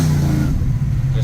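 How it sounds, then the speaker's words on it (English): A 1970 Chevrolet C10 pickup with a stroked, supercharged LS V8 gives a brief, loud, close engine rumble with a deep throb, lightly blipped throttle. "if you just barely tap on the gas a little more, it gets rowdy"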